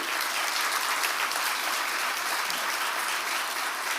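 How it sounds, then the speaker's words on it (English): An audience at a football press conference breaks into sustained, even applause, a dense wash of clapping heard on its own without talk. "Let's give a round of applause to you."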